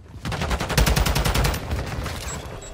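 Rapid pistol shots in a shooting video game, a quick run of sharp, evenly spaced cracks that is loud and close, then tails off into lighter scattered fire.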